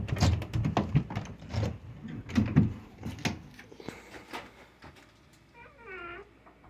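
A basement door fitted with a Universal Hardware door closer with a single speed valve swings shut, giving a series of soft thumps and rubbing knocks against the frame, followed by a short high squeak near the end.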